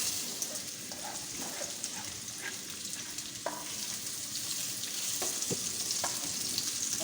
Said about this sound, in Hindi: इसके लिए मैंने 2 छोटी प्याज काट ली और आधा कप तेल डाल दिया।